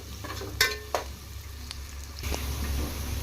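Onions sizzle in a pan for vegetable biryani, a steady close frying hiss broken by a few sharp spoon clinks and scrapes as they are stirred, with no talking.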